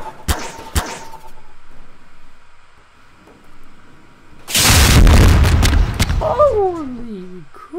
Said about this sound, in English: Epic missile launcher.